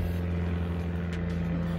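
A low, droning engine hum from an airplane passing low overhead, a steady rumble throughout with no voices.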